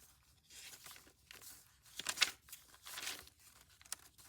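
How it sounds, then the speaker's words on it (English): Junk journal papers are flipped through quickly, among them calendar pages, wrapping paper, craft paper, greeting cards and tea-dyed almanac pages, giving a series of soft papery rustles and crinkles with a sharper crisp rip-like flick near the middle. "Flip through quickly."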